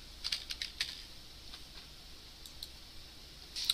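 Quiet clicking of typing on a computer keyboard, a scattered run of light keystrokes with gaps, close and soft, with no talk.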